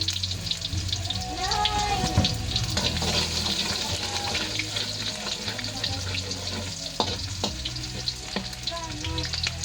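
Garlic and onion sautéing in a pan, a steady close sizzle with occasional stirring scrapes and clinks, plus a brief run of water near the start; a voice is faintly present.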